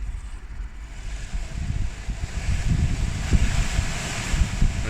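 Heater blower motor from a Ford Focus, held out of the car and spinning fast: a steady, fairly quiet broadband whoosh of air that builds slightly and holds, with no voices.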